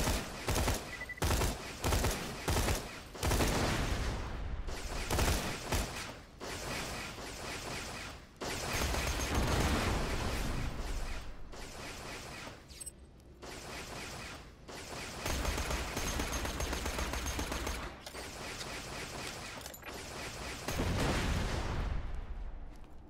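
Rapid turret gunfire in Borderlands: The Pre-Sequel, loud sustained bursts of automatic shots broken by brief pauses, with no talk over it.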